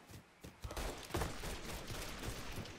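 Gunfire in the video game Mafia 3: a dense fusillade of repeated shots with sharp bursts and a heavy rumble, fairly loud and continuous, with no voices.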